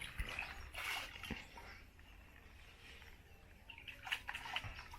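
Water splashes and trickles in bursts while being poured over ground maize in a Kenyan village, with a few louder pours near the start and end, fairly close and unaccompanied by talk.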